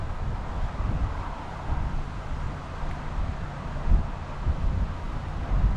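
Strong gusts of around 40 mph blow steadily across the Fossdyke canal bank, producing a low rumbling buffet on the microphone with faint rustling and no speech.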